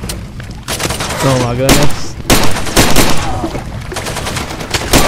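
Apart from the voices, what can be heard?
gunfire from the video game Far Cry 2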